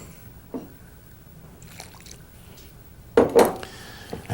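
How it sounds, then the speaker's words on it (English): Water is poured into flour to form a very thick batter for a North Indian lunch, heard as a faint trickle followed by a louder splashy burst of liquid near the end, with no talking. "pour in enough water to make a very thick batter"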